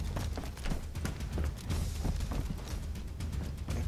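Footsteps in the video game DayZ: a steady stream of rhythmic thudding steps, close and fairly loud, running on without pause for a few seconds, with no talk.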